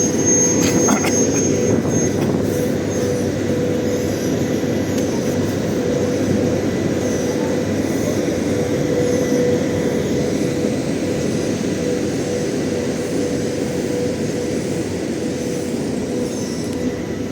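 A steady, heavy mechanical rumble drones on without pause as a train departs from Lviv, with a faint high whine above it.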